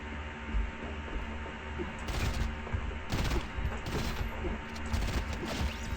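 Gunfire bursts in Fortnite, rapid crackling volleys repeating over a dense, continuous game soundscape, loud and close, with several sharp peaks around the middle.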